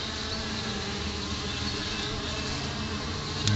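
Honey bees buzzing around a hive trap-out, a dense continuous drone of many bees close by, steady throughout.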